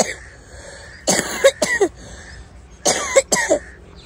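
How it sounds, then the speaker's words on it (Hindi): Two quick bursts of harsh coughing, three coughs each, close and loud, with a short quiet pause between the bursts. "मुझे जो है ना खांसी आ जाती है हर बार"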